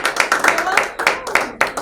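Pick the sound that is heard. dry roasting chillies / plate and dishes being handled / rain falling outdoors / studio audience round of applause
studio audience round of applause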